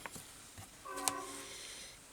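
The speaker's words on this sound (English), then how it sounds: "There's a train." Distant train passing, a faint sustained rumble with a brief tonal horn blast rising over the steady low background noise.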